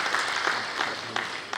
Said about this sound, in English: I want you to give a huge round of applause to my committee members